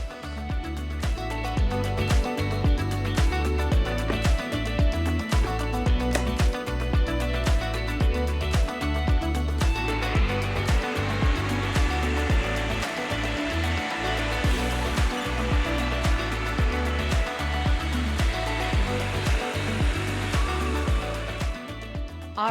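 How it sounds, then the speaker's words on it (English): A blender whirs steadily through warm winter smoothie ingredients, a loud, continuous motor whine with a rhythmic, chopping texture that shifts slightly in pitch partway through, running alone without talk. "We're gonna blend all of the ingredients"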